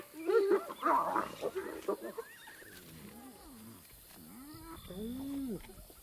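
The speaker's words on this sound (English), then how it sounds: "Hyenas are ripping an impala kill apart." Hyenas squabble while ripping apart an impala kill in the Timbavati: a noisy jumble of yelps and growls followed by rising and falling whooping calls, close and fairly loud.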